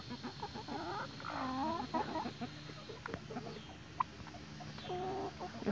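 Several Hamburg chickens cluck and murmur close by, with soft overlapping calls and a few sharper notes.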